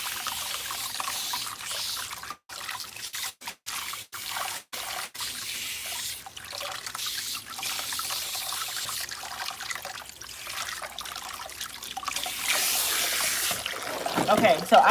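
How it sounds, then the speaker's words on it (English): Hot tap water runs steadily from a faucet onto hair, a continuous close hiss and splash lasting throughout, growing slightly louder near the end, with no voices. "So I'm just going to add some water to my hair."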